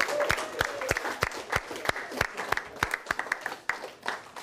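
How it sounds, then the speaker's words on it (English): Scattered applause from a classroom audience, a few dozen sharp hand claps ringing out irregularly over several seconds, with faint voices murmuring underneath. "give yourselves a round of applause"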